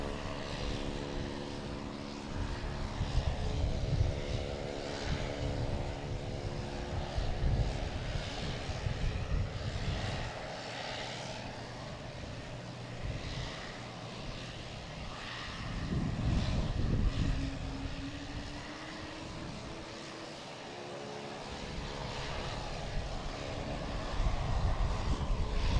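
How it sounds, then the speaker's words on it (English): A JetBlue Airbus A220 jet on arrival from Fort Lauderdale at Boston Logan, heard as a faint, distant engine drone that swells and fades over a long stretch, with steady tonal hum and no talk. "a JetBlue coming in from Fort Lauderdale. It's an A220, flight 1370."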